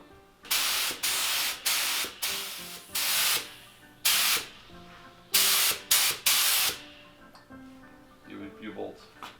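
Aerosol spray paint hisses in a series of short and longer bursts as Willys Jeep bolts get coated, loud and close, with faint clinks and low voices between sprays.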